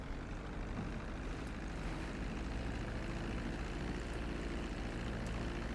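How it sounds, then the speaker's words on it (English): A plane in Grand Theft Auto V comes in low over the runway to land, its engines giving a steady, dense droning roar that stays even and continuous throughout. "reducing the plane's altitude gradually so you're just above the runway as you approach"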